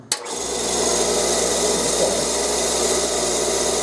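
A 3,600 RPM drum sander motor starts with a sharp knock, then runs at a fast steady whine with a constant drone close by for several seconds; nobody speaks.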